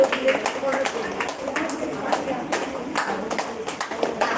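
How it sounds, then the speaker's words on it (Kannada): An audience at a Tulu-language live show claps for a woman called Arathi sister, a loose run of sharp hand claps at an uneven tempo with people's voices mixed in underneath. "ಆರತಿ ಸಿಸ್ಟರ್ ಬರುವಂತ ತನಕ ಚಪ್ಪಾಳೆ ನಿಲ್ಲಿಸ್ಲಿಕ್ಕಿಲ್ಲ"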